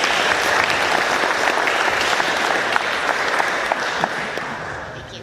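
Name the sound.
audience applause at a Rotary Club meeting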